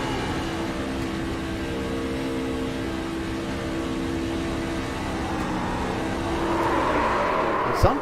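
A racing truck engine hums at a steady, unchanging pitch as if stuck in gear, then swells louder toward the end with a brief sharp knock, close and continuous.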